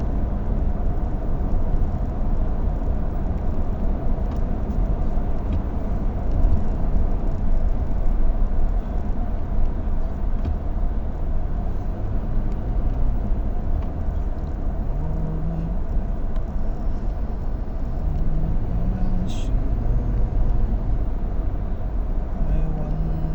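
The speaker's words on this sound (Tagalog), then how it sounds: "Grabe na yung traffic," Heavy road traffic sits in a jam: a dense, steady low rumble of idling and creeping vehicles fills the whole stretch, with faint voices underneath.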